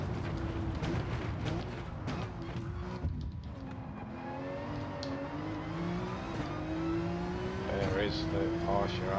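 A Porsche RSR race car engine in a racing video game drones under steady talk, its pitch sliding down and climbing back up as it shifts and revs, with tire and track noise mixed in.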